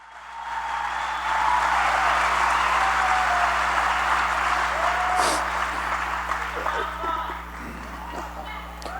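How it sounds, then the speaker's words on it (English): An audience at a political health discussion event applauds in a sustained wash of clapping that holds for several seconds, with a few cheers and shouts scattered through it. "Can we please get a round of applause for Bobby Kennedy and Donald Trump for putting these big ideas on the national platform"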